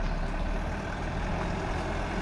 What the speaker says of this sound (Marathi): चला आपली गाडी येते आहे